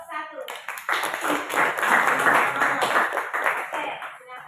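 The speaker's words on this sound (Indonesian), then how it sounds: "Aplaus untuk kelompok 1." A classroom audience claps for a student group that has just finished presenting, a dense burst of hand-clapping that swells and holds for several seconds before tapering, with voices mixed in.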